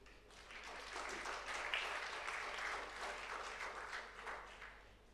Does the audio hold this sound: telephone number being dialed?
no